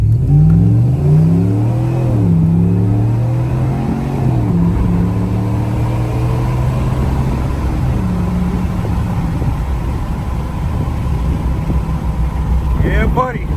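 A 2019-24 Ram 1500 pickup with a 5.7 V8 and an MBRP high flow muffler accelerates under load, its deep exhaust rising and holding a steady roar, loud and close, with someone talking over it.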